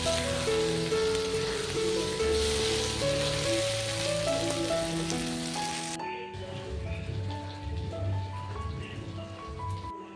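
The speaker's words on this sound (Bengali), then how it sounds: "আবার একটু আমি মাংসটাকে ভালোভাবে নেড়ে চেড়ে নিচ্ছি যাতে নিচে ভরে না যায়" Mutton curry in a pot on a clay stove is stirred, producing a constant, rain-like sizzle and bubbling that suddenly drops to a quieter simmer partway through, with faint voices in the background.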